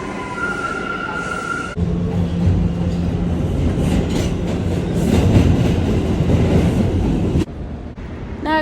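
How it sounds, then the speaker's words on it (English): A New York subway train rumbles along the tracks, a loud, continuous roar with rattling wheels and clatter, gusts of wind noise, and a brief high squeal early on. "so hopefully it's the right train"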